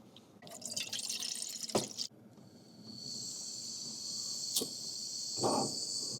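Water runs into a cooking pot inside a camper van on a rainy evening at Loch Lomond, a steady close pour with splashing that shifts to a higher, hissing stream partway through, with a couple of brief clunks.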